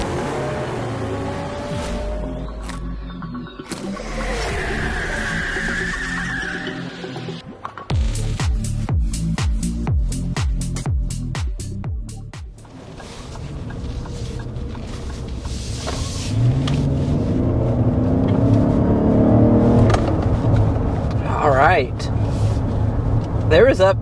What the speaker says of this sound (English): There is up to 50 miles an hour very quickly in the all-new Lexus TX, but like Drew said